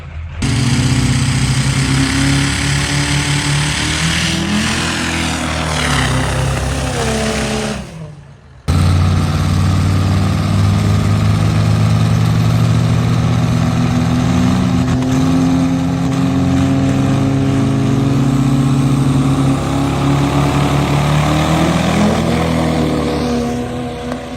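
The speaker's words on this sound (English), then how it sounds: "So we are going up for round 1 of the dirt trikes." Dirt trike engines at a diesel challenge event roar loudly and steadily, revving up and down for a long stretch with a brief cut partway through, no talking over them.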